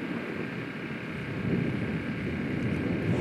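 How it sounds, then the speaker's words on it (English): Steady wind buffeting the microphone outdoors at a cold, blustery youth soccer match in Balch Springs, a continuous broadband rush that swells slightly louder partway through, with no voices. "It's very windy today here in Balch Springs."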